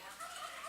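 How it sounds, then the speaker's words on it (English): Laying hens of the production layer class, penned in threes at a county fair poultry show, give a brief, faint murmur of clucking and fowl calls against a diffuse barn-like background. "The birds that you see in the pens right now would be a pen of three production layer class."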